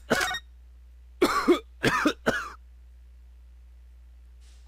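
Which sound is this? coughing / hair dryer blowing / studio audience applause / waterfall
coughing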